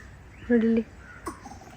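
A voice imitates a crow's caw once, a short nasal call, followed by a faint brief sound.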